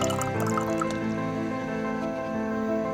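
Hot water at about 85 degrees Celsius is poured into a cup of green tea, a steady dripping, trickling fill heard over sustained tonal music.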